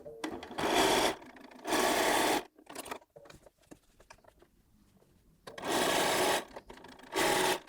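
A sewing machine stitches jelly roll quilt strips with a quarter-inch seam in three bursts, running in quick sustained whirs separated by quiet pauses with light fabric handling.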